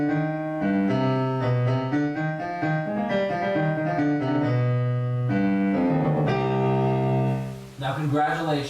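Solo piano plays a full section of a piece, a steady run of chords and melody notes with a firm rhythm, close and loud with no voices.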